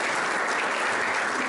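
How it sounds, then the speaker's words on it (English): Steady audience applause at the opening of the Evel Knievel Museum, a dense wash of clapping from a crowd, continuous and fairly loud for the whole stretch with no talk over it. "And that applause it's appropriate for many reasons"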